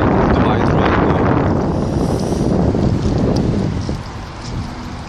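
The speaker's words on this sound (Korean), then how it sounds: "바람이 참 오늘 정말 많이 불어요." Strong gusts of wind buffet the microphone on a riverbank along the Han River, a dense continuous roar that eases slightly toward the end.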